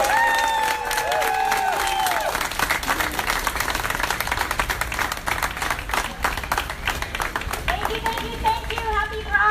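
An outdoor crowd at a Pride equality rally in Key West breaks into sustained clapping and cheering, a dense, lively ovation with a few voices rising over it and some talk near the end.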